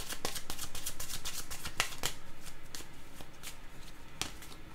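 Tarot cards are shuffled and drawn in a rapid train of crisp, close riffling flicks and snaps that carries on steadily throughout at moderate loudness.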